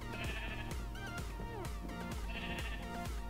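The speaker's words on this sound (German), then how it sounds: "Wie viel Schaf es da gibt." Several sheep bleat in Minecraft, their repeated game-sound bleats overlapping in steady bursts against a loud, constant backdrop with no talking.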